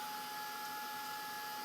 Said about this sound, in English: we have to use the dryer, but this is a Tim Holtz dryer